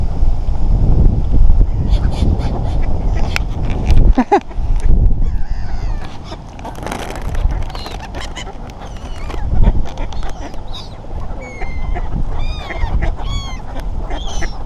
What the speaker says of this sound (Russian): Чайки крадут всю еду